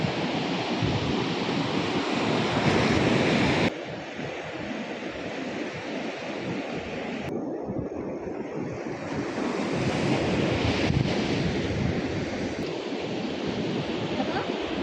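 Ocean surf rushes continuously onto Gaonkhadi beach, loud and roaring, mixed with gusty wind buffeting the microphone.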